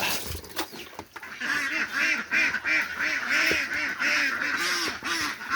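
Pet ducks quacking repeatedly in a busy, rhythmic chorus while being fed, close and fairly loud.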